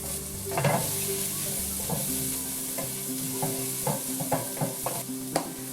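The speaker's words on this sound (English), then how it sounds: "We're going to put our garlic in." Garlic sizzles in hot oil with softened onions in a ceramic pan, a steady close frying hiss broken by repeated scraping stirs, with no talking.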